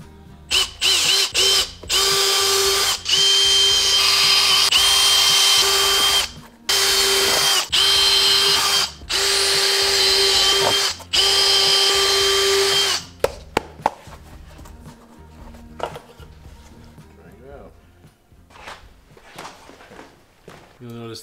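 A power drill bores holes in an ice skate, whining loudly in several bursts of a few seconds each, then gives way to quieter clicks and handling noises with occasional talk.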